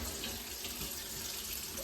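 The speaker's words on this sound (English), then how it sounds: "I'm pushing into the bottom of the sink. That's how I clean the paintbrush out." Paintbrush being washed under a running tap in a sink: a steady, close hiss of flowing water splashing into the basin, continuous and alone.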